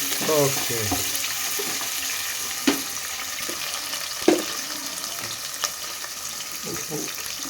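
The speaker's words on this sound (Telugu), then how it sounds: "ఇదండి, ఉల్లిగడ్డలు వేయించుకుందాం." Chopped onions with green chillies and a little salt frying in a pan for mutton curry, a soft continuous sizzle with a few sharp stirring clicks and scrapes against the pan.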